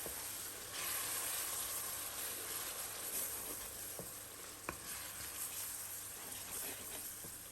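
Radhuni spice mix is sautéed with other whole spices in oil for Old Dhaka-style tehari, a quiet, even sizzle with a few light spoon taps against the pot.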